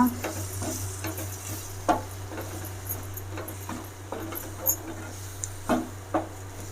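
Fried chicken pieces being stirred into Manchurian sauce in a pan, with scattered scraping clicks of a spoon at an irregular pace over a faint sizzle and a steady low hum, close and fairly quiet.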